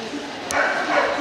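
A Dogue de Bordeaux gives a single short bark at an indoor dog show, heard at moderate distance over crowd noise and background chatter.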